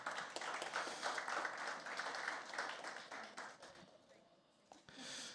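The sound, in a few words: audience applause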